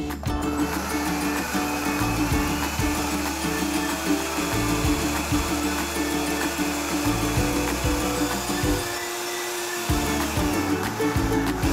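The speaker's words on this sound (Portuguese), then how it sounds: "Agora é só bater." A blender whirs steadily while mixing corn cake batter made with condensed milk and coconut milk. The motor drones loud and continuous, its pitch shifting as the load changes, and it drops out briefly near the end before starting again.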